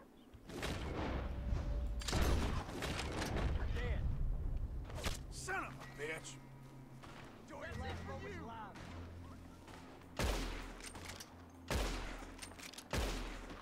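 Bursts of gunfire from a Western shootout in Red Dead Redemption 2, with several sharp shots spread through the stretch and a steady rumble of game ambience beneath, while a player talks over much of it.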